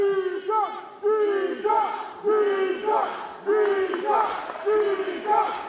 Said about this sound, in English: Fans cheering for Jishan.